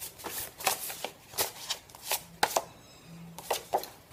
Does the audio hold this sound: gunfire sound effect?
no